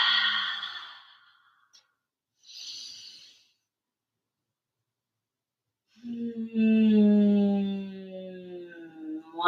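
Slow breathing during a yoga stretch in a morning slow flow session: two long, soft exhales several seconds apart, then a longer voiced sigh-like breath, close and clear against silence.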